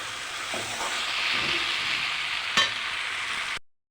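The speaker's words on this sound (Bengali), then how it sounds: "সাবুটা দিয়ে আমি একটু হালকা ভাজবো, ভেজে তারপরে জল দেবো" Sago lightly frying in a pan hisses and sizzles steadily up close, with a single sharp clink partway through before the sound stops.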